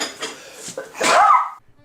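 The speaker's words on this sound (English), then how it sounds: "then I sneezed" A single sneeze bursts out mid-clip while a cake batter is being mixed in a kitchen, preceded by a few soft breaths and faint kitchen clatter, then quick silence.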